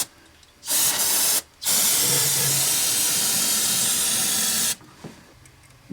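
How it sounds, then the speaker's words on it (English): Carb cleaner sprayed from an aerosol can onto a Ford F150 inline-six engine surface, two loud close hissing bursts, a short one followed after a brief gap by a long sustained spray. "Going to clean the surface a bit with some carb cleaner"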